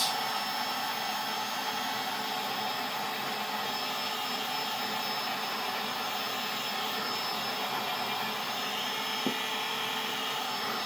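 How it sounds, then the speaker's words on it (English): A steady, loud blowing roar of a heat gun runs continuously, a constant motorized whoosh of air with no breaks. "This is a heat gun, so it applies a lot more heat."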